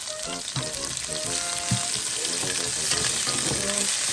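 Chopped garlic and half-cooked onion stir-frying in a hot pan, a steady loud sizzle throughout, broken by scraping stirs and a few clinks of the utensil against the pan.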